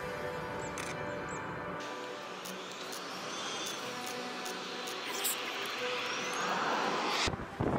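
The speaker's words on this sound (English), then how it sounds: "A UTair Boeing 767-300 almost lands on top of an Aerolíneas Argentinas Airbus A340-300 at Barcelona Airport." A Boeing 767-300 comes in to land at Barcelona Airport with a steady roaring engine rush and broadband wind noise, growing slightly louder near the end.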